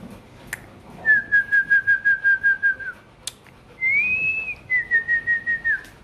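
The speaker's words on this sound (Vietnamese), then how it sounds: "Anh huýt sáo chứ có cái gì đâu mà phi ra ngoài đấy" A person whistles to call Rottweiler dogs: a sharp series of quick repeated whistle notes, then a longer rising whistle followed by another rapid run of short notes, loud and close over quiet surroundings.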